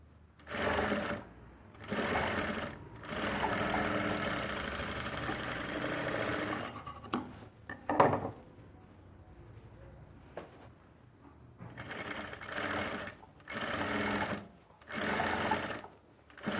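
A sewing machine stitching fabric for a winter dress in several uneven runs with brief stops, close by and moderately quiet, with occasional faint handling noises.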